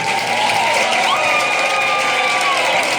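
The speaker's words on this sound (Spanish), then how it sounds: "Le damos este gran aplauso a todos los que nos están viendo ahora." Church congregation at Iglesia de Jehová Nissi in Valle de la Pascua applauding loudly and steadily, with cheering and whoops mixed into the dense crowd noise throughout.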